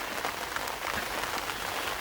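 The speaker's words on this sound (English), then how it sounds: "You can probably hear it on the bivvy, but it is raining now" Steady rain patters on a taut fabric bivvy shelter at a fishing lake, a dense, even hiss with no voices.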